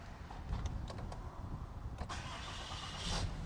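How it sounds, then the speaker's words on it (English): A Ram 2500 pickup's 6.7 litre Cummins turbo diesel cranks and fires up, giving a steady low rumble with a few clicks and a rising surge near the end, heard close from inside the cab with no talking. "Let's see if we can start her up."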